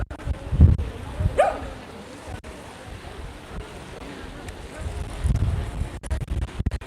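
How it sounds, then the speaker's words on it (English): Strong wind gusts buffet the microphone on a beach at Port de Soller, Mallorca, in low, rumbling bursts with faint surf behind them. "Now I can just feel the winds picking up behind me, so I hope you can still hear me okay."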